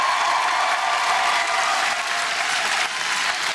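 A theatre comedy audience in Brighton bursts into dense, sustained applause, loud and continuous throughout, with faint crowd cheering mixed in.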